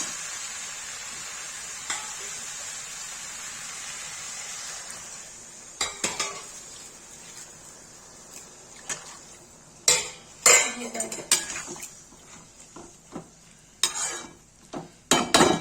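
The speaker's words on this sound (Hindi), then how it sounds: "मैंने भिंडी डाल दी है इसमें, भून देंगे, फिर ऐसा कर देंगे" Okra frying in a pan, a faint hiss at first, then louder clinks and scrapes of a utensil against the pan as it is stirred in uneven bursts toward the end.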